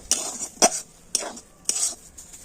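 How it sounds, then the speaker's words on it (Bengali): A utensil stirs semolina dough in a pan while making stuffed pitha, producing four rhythmic scraping strokes, close and fairly quiet, with short pauses between them. "এখন আমি কন্টু নাড়াচাড়া করে একটা সুন্দর ডো তৈরি করে নেব"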